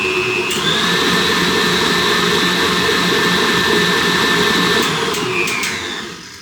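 A stand mixer whirs steadily at a medium speed while mixing sugar cookie dough, a loud close motor hum with a high whine that winds down at the end, no talk.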